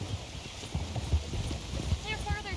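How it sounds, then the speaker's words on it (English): Horse hooves clip-clop at a steady trot in the video game Red Dead Redemption 2, heard under talk among game characters, with flowing water in the background. "Okay, get on your horse."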